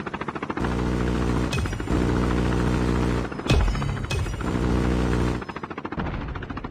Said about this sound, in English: deployed chopper gunner.